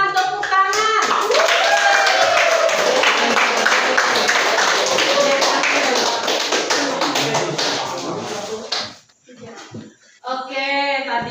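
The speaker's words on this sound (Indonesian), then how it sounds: "Silakan tepuk tangan." Students in a classroom clap for a group's presentation, a dense, close patter of hands with children's voices mixed in. It thins out near the end before voices return.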